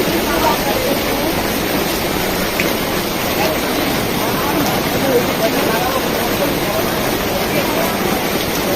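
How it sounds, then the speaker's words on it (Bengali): Heavy rain pours steadily outdoors at a fairground in Sonargaon, a dense, constant broadband hiss with no pauses, while people's voices murmur faintly underneath. "অনেক জোরে বৃষ্টি পড়তেছে"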